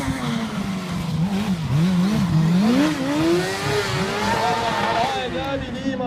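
A stunt motorcycle at a stuntriding competition revs hard with the engine bouncing off the limiter, a near, wavering engine whine climbing and falling in pitch under an announcer's commentary.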